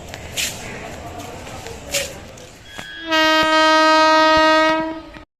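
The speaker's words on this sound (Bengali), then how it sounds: "আমি আসার পরেই কিন্তু ট্রেন ঢুকে গেছে" A Krishnanagar local train arrives at Kasimbazar station, its loud, sustained horn blaring close by for a couple of seconds after some platform noise and scattered voices.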